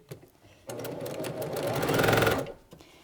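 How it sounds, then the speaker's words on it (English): A sewing machine runs in a quick, even run of stitches, speeding up slightly before stopping, close by with no talking. "let's go to the sewing machine and do that"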